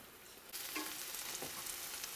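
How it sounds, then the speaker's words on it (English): Soft onions frying in a pan, a steady low sizzle that swells slightly after a brief quieter start, faint and continuous with no voices. "the onions is a little soft, so then they fry a little bit"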